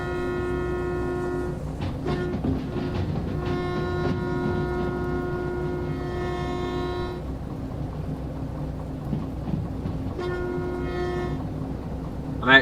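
A locomotive in the Derail Valley train simulator rumbles steadily near a harbor, its long horn blasting several times in sustained harmonic tones over a continuous low mechanical hum.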